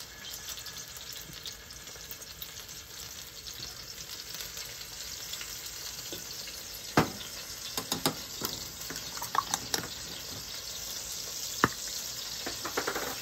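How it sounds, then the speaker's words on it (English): Wok frying over a Weber Summit Charcoal Grill outdoors, a steady sizzle with occasional stirring clatters and sharp pops of food hitting hot oil, moderately close and without talk. "Outside wok cooking on the Weber Summit Charcoal Grill."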